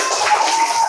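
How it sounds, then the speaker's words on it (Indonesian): A class of fifth-grade pupils applauds a classmate in a school lesson, with dense, steady clapping from many hands filling the short moment without talk. "tepuk tangan buat temennya"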